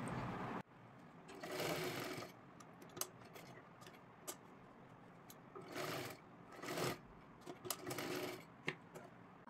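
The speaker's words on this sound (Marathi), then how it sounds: "अशी घडी करून घ्यायची आहे आणि इथून आपल्याला शिलाई मारून घ्यायची आहे।" A sewing machine stitches a lehenga latkan in several short bursts of rapid whirring, separated by quiet pauses with small clicks and handling noises.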